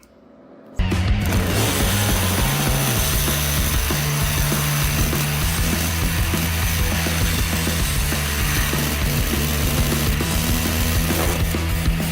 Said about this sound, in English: Meanwhile, we're drilling out the exhaust mount.